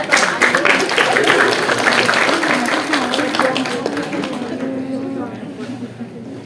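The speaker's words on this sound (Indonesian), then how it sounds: "boleh diberikan tepuk tangannya." Loud applause rises for shelter children after a theatre performance, with voices calling out underneath. The clapping fades gradually toward the end.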